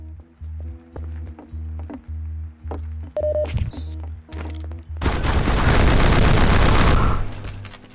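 Tommy gun fire in the Half-Life video game: scattered single shots and beeping game sounds at first, then a loud, sustained automatic burst that lasts about two seconds before stopping.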